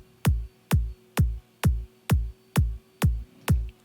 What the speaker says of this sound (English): If you turn it up, your sample will go up in pitch